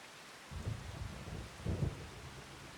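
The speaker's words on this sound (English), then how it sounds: "It sounds like it's still raining" Rain and rolling thunder in the farming video game Farming Simulator 25, a constant hiss of rainfall with two low, soft rumbles of thunder swelling underneath, fairly quiet overall.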